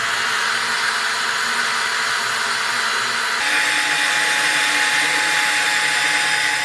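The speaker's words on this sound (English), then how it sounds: "We're going to go on high heat," Handheld blow dryer running on high heat and low speed, a loud, steady whooshing motor drone close by that shifts slightly in tone partway through.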